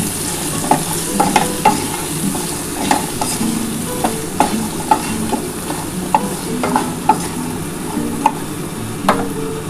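Hog plum (amra) chutney with poppy seeds and a pinch of salt fries in a pan under a constant close sizzle. A spatula clicks and scrapes against the pan in a steady, repeated stirring rhythm, with no voices.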